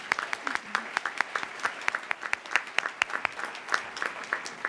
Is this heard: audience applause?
yes